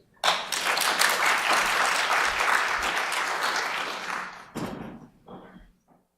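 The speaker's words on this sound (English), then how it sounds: "Round of applause for Nathan." Applause breaks out from an audience at a county GIS Day event for a speaker, starting abruptly, holding dense and strong for several seconds, then thinning into scattered claps before fading.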